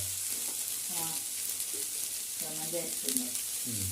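Cabbage fries with a steady sizzle in a hot pan throughout, with a few soft stirring knocks and scrapes scattered through; no voices.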